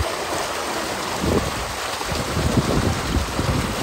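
Spring water in the mountainous northern areas pouring out where bottles are being filled, a loud, unbroken rushing and gurgling flow that fills the whole stretch with no voices.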